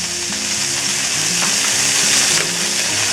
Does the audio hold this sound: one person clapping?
no